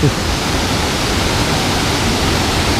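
Waterfall pouring steadily, a loud, continuous broadband roar of rushing water close by with no break for the whole stretch.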